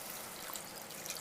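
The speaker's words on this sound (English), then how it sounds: "Now I add water to it." Water poured into simmering curry gravy for malai kofta, a steady soft trickling and splashing of liquid that runs faint and continuous for about a second, with no talk.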